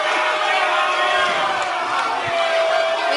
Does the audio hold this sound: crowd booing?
yes